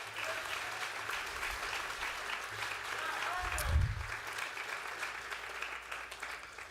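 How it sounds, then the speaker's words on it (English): A round of applause at a transfer celebration ceremony: an audience claps steadily as a dense, even wash of hands, with a brief louder thump partway through and some talking mixed in. "So give him a big round of applause."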